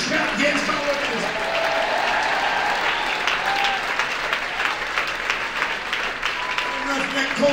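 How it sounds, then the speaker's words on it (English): A church convention congregation claps and shouts steadily, a broad continuous wash of hands with voices calling out over it. "You ought to clap your hands and shout yes"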